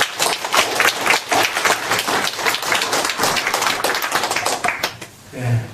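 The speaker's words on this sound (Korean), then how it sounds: "자, 한 번 더 박수하겠습니다." A church congregation at a Sunday service claps in rhythmic unison, the sharp, evenly spaced claps repeating at a quick steady beat for about five seconds before stopping.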